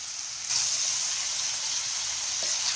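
Tomatoes sauté in a hot pan for padwal bhaji, a steady loud hiss of sizzling that bursts in after a quiet start and holds evenly throughout, with no talking.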